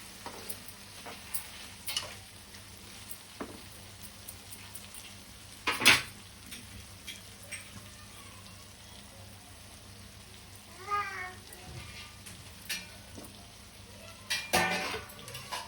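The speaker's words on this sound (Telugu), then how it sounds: "బాగా తేలే వరకు ఇట్లా ఫ్రై చేసుకో" Stuffed bitter gourd masala frying in a pan, a soft steady sizzle with occasional scrapes and stirs, a sharp clatter near six seconds and another near the end, and a faint cat meowing midway.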